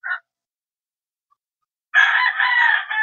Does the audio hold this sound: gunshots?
no